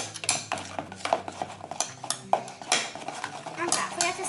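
Glitter slime being mixed in a bowl, with repeated clinking and scraping of a utensil against the bowl in an irregular rhythm, close and fairly clear; a voice is heard faintly at times.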